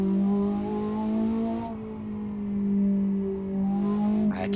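A Ferrari Roma in Assetto Corsa on a damp coastal road holds a steady, droning engine note that dips and swells slightly as it cruises, loud and close with no talk.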